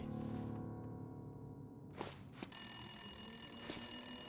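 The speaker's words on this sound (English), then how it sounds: "It's the old phone." An old telephone rings in the video game The Long Dark, a loud, steady trilling bell that starts suddenly after a couple of thuds and continues over a quiet ambient background.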